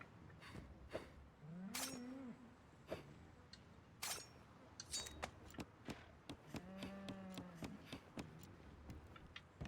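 Cows in the video game Dragon's Dogma: Dark Arisen moo several times with pauses between, mixed with clicks and light taps, fairly close and clear.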